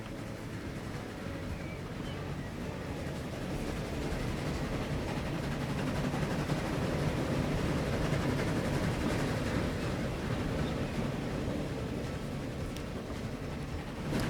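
High-speed trains passing each other in the Transport Fever 2 simulation game, a continuous heavy rolling rumble that swells toward the middle and stays steady, with no talk over it.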